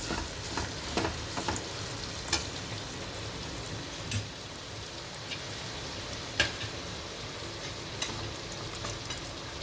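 Mustard seeds sizzling and popping in hot oil for a pineapple gojju, a faint steady crackle broken by scattered sharp pops, close by and without talk.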